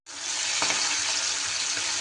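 Fish fry in rice bran oil, a dense continuous sizzle right up close, loud and alone, with a brief clink near the start.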